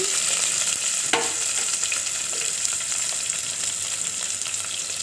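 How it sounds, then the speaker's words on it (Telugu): Spices fry until red in hot oil for an Andhra-style bitter gourd curry. A loud, continuous close sizzle with hiss runs throughout, with one sharp utensil knock early on and no speech. "ఇవి బాగా ఎర్రగా వేగాలి అప్పుడే టేస్ట్ చాలా బాగుంటుంది"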